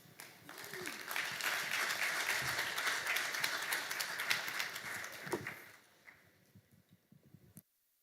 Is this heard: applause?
yes